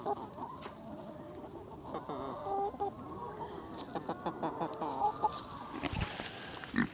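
Chickens cluck and murmur steadily nearby on a small woodland farm, with a few pig grunts mixed into the low farmyard background.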